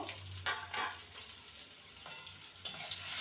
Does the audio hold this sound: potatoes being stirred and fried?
yes